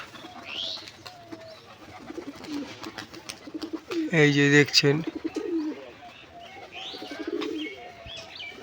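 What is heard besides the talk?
pigeons cooing and flapping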